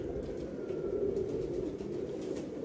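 A pigeon at a rooftop loft gives a low, steady cooing drone that continues close and unbroken throughout, with faint ambient noise and no talking.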